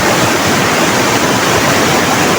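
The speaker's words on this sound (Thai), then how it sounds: "น้ำป่านี่ไหลแรงมากเลยครับ" Rushing forest flash-flood water in northern Thailand roars as a loud, continuous, dense wash of noise close by, with no voices.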